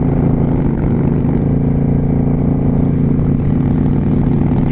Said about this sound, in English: It's really great riding in this group of motorcyclists and just hearing the engines sound great.